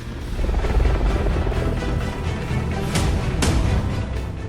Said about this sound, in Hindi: दुनिया का सबसे आधुनिक अटैक हेलीकॉप्टर।